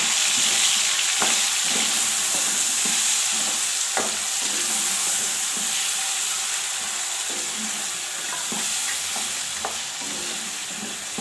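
A steady, loud sizzle of paste frying in a pan, with occasional scraping taps of a spoon stirring throughout.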